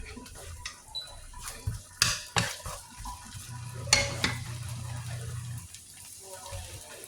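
Garlic hits a hot pan for pinakbet, giving a steady close sizzle with several sharp clatters of a utensil against the pan, a louder scraping burst near the middle, and a low continuous hum under it all.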